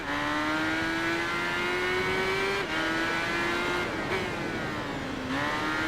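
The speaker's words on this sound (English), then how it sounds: "We are riding a BMW K1200R for test number 8 of the expert license." BMW K1200R motorcycle in Tourist Trophy, a steady high engine drone holding one pitch that climbs slowly, with brief dips at gear changes before it rises again, loud and continuous throughout.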